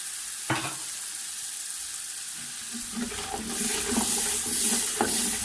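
Masala frying in a pan with added water for a beef paya dish sizzles and bubbles steadily, with occasional stirring clinks and scrapes, and grows a little louder toward the end.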